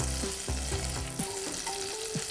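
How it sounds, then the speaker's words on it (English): Butter sizzles steadily in a hot saucepan over medium heat, with repeated scraping and stirring knocks from a utensil against the cookware. "Then we're gonna add our butter."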